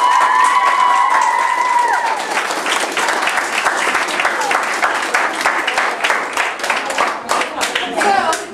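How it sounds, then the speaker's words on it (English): A lively crowd at a community talk bursts into loud, close clapping mixed with cheering and shouts, with a voice speaking briefly at the start before the applause takes over and continues steadily. "Everybody clap."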